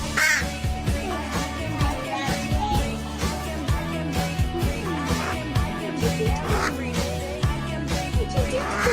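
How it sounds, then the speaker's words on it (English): A crow caws repeatedly in short bursts, set against a dense, continuous bed of music. "That's the crow."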